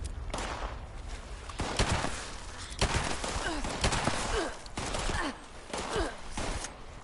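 Gunfire from enemies shooting regular bullets in Fallout 76 on PS4, sharp bursts of shots cracking irregularly over about seven seconds, some close and loud, with faint background noise between volleys.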